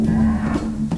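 A short, loud cow moo from a cow lamp creature in a video game, a steady low bellow held for about a second with a faint background underneath.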